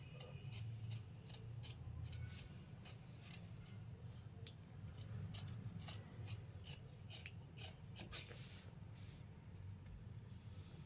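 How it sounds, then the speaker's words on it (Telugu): Scissors snip through blouse fabric in a series of quick, crisp cuts at steady close range, over a faint room hum with no talking. "ఇప్పుడు కటింగ్ చేసుకుందాం మనం."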